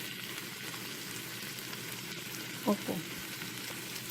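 Chayote sizzles steadily as it sautés in a pan for ginisang sayote, a continuous hiss with brief clinks of stirring, while a voice speaks softly.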